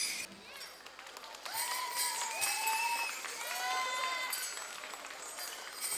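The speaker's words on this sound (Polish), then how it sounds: "Dziękujemy bardzo za oklaski" Audience applause swells and holds as a broad, fairly faint wash of clapping in a hall, with tonal stage music or feedback lines sounding above it.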